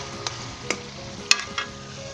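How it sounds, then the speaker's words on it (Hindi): Chicken heart, gizzard and liver korma frying in a pan, a low background sizzle broken by four sharp spoon scrapes and taps spaced through the stir. "इसे 10 मिनट के लिए मैं भूनता हूँ"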